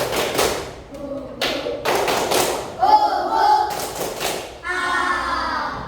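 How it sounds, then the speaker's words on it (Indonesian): Schoolchildren in a classroom perform the tepuk semangat clapping chant, sharp rhythmic claps in quick patterned bursts mixed with their chanting voices, close and loud. "Baik anak-anak, untuk memulai kegiatan belajar pada pagi hari ini, kita tes semangat kita. Tepuk semangat."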